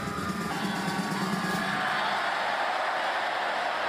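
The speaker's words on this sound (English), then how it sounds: "You can hear the crowd just groan, a collective, oh." An arena crowd at the State Farm Center lets out a collective groan at a jersey unfurled upside down from the rafters, a broad, sustained murmur of many voices filling the space.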